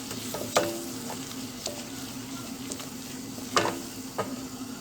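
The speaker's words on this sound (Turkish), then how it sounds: "Şimdi bir çorba kaşığı unumu koyuyorum. Güzelce ne kavuracağım unumu." A spoon stirs flour roasting in melted butter in a pan for soup, with a low continuous sizzle and a few sharp scraping clacks against the pan.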